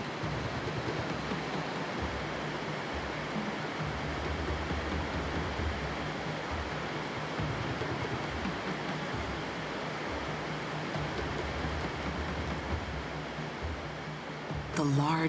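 A loud, continuous roar of Victoria Falls on the Zambezi River fills the air from almost right underneath the falls, dense and unbroken, with a voice faintly talking underneath.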